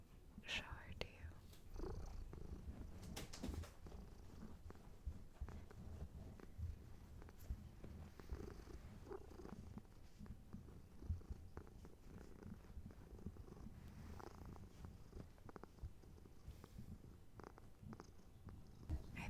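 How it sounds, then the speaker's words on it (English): A house cat purring, a soft continuous rumble heard up close beneath gentle whispering. "I think she has the loudest purrs in the house, like out of all the cats"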